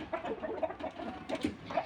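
A hen clucks in a quick run of short, soft calls, close by and fairly faint, with no talk over them.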